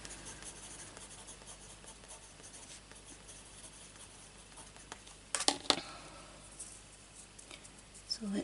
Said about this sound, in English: I'm just going to write that down.